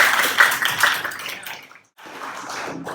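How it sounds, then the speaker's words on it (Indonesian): A classroom of junior high students clapping together in a short burst of applause, a dense patter that fades away, stops, then resumes more softly. "Hebat, berarti tepuk tangan buat semuanya."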